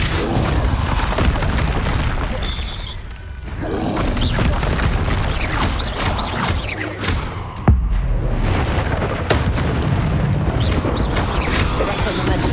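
Loud, booming spell blasts from the video game Hogwarts Legacy, including Confringo and Depulso, hit in heavy, continuous rumbling bursts with whooshes and sharp impacts, layered densely in game combat.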